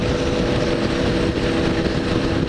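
A Honda NC700 motorcycle rides a highway toward Recife from Maceió, Alagoas, its engine roar blending with steady, loud wind rush from a close-up camera, continuous and unbroken.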